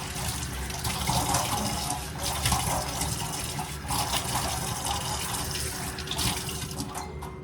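Steady rush of water pouring from a faucet into a sink, continuous and close, with slight splashing variations throughout.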